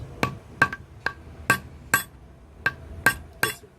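A hammer strikes a rivet on a nail to set a fitting on a Chinese bow quiver: eight sharp, close metallic taps with a slight ring, spaced unevenly and separated by quiet gaps.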